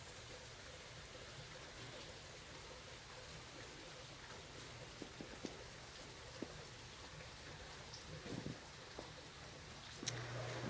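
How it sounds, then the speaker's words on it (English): Steady rain falling outside a porch nearby, a soft continuous patter with occasional heavier drips and splashes, heard alone without talk. "I'm sitting on the porch just listening to the nice rain that we're getting."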